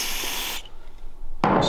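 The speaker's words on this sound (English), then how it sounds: "Spray some brake clean." Brake cleaner sprayed onto oily parts of a Predator 212cc small engine during a teardown, two short pressurized hissing bursts separated by a brief quiet gap, close by.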